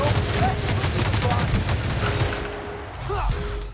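Loud, dense gunfire from the video game The Outer Worlds rattles in rapid bursts for about two and a half seconds, then thins out, with faint voice-like sounds mixed in.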